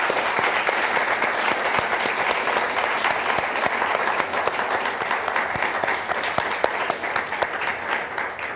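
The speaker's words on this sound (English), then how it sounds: "let's give them a big, warm round of applause" Loud, dense applause from an audience at an evening panel discussion, a continuous crackle of many hands clapping for over eight seconds with no talk over it.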